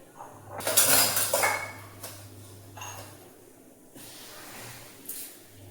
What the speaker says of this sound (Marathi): भांडे घासून घेतात तर